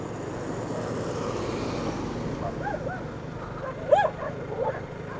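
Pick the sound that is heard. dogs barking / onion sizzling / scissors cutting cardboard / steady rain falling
dogs barking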